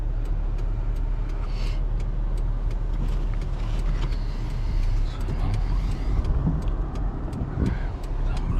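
A car on the road, heard as a steady engine and tire rumble that fills the clip, with a regular faint ticking running alongside.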